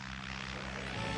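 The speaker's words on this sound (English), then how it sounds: "here comes Monsieur Le What's-Its plane" In an animated film about an air show, a propeller airplane drones on arrival, its engine hum steady and moderately loud, rising a little toward the end.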